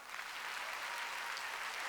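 A congregation at a Sunday church service claps again, a thick continuous burst of many hands at a steady, fairly loud level, with no one talking over it.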